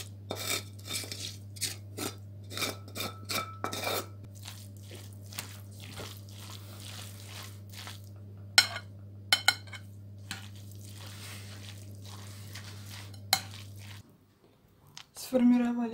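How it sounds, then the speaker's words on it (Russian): Minced fish mixture with fried onion is shaped into cutlet patties by hand, producing soft squishy pats and wet slaps at irregular intervals over a steady low hum, with light clinks near the end. "сформировали котлетки"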